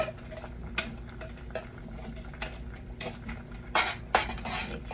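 Cooked, pasty okra is scraped from one cooking vessel into a pot and stirred, giving close clinks and scrapes of metal utensils against cookware with irregular louder knocks toward the end, with no talking.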